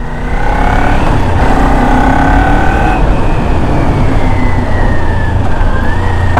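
Harley-Davidson Sportster Forty Eight with SP Concepts exhaust engine braking on the road, a loud steady low rumble with falling engine tones under heavy wind roar.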